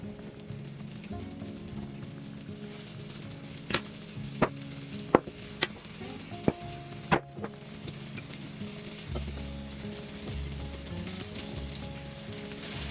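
Food frying in a good-sized pan, a steady close sizzle and crackle with a few sharp clicks and taps of utensils scattered through the middle, no voices.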